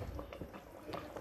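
Goat meat light soup bubbling gently in a pot as it simmers, a soft continuous low bubbling and faint liquid churning, fairly quiet and close, with no voices.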